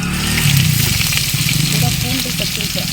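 Onion, curry leaves, garlic and brinjal sauté in hot oil with cumin, fenugreek and vadagam in a kadai for a fish kulambu, giving a steady, loud, close sizzle and crackle throughout.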